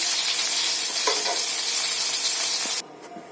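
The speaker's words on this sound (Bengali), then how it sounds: "আলাদা পাত্রে উঠিয়ে নেওয়ার পরে আমরা সুন্দর করে মশলাগুলোকে আবার ভেজে তারপরে আমরা এটাকে রান্না করব।" Chicken pieces and spices frying in mustard oil in a pan, with a loud continuous close sizzle and hiss and a few stirring scrapes, cutting off abruptly near the end.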